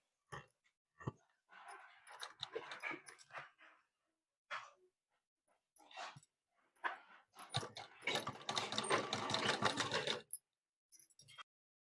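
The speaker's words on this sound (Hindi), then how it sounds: "तो अब इसमें हम सिलाई लगा लेते हैं।" A sewing machine stitching a blouse after it was marked to measurement runs in short, intermittent bursts of close mechanical whirring and clatter, ending with one longer, louder stretch before stopping.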